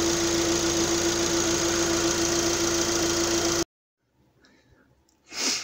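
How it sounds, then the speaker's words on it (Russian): A Chery Tiggo 8 engine with an oil leak runs loud and steady at idle with a constant hum, then cuts off abruptly; faint rustling and a short breathy burst follow near the end. "Я решил запустить двигатель, посмотреть, будет ли течь масло."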